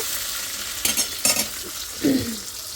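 Shrimp sizzle and fry in a hot pan for a bitter gourd curry: a steady crackling hiss with a few louder bursts as the pieces are stirred, heard alone and close up.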